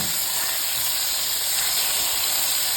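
Thick pork chops searing in a hot pan, with a steady, loud, hissing sizzle that holds evenly throughout.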